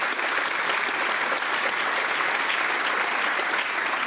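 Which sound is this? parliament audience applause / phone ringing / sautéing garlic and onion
parliament audience applause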